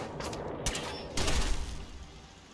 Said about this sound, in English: Why are these shots not connecting?